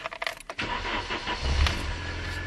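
A Vauxhall Frontera 2.2 litre 16-valve engine is cranked and catches, settling into a steady close idle after a brief rattle of keys and clicks.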